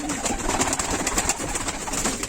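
Tumbler pigeons coo steadily and close by inside a loft, a continuous layered murmur of overlapping coos with no talking.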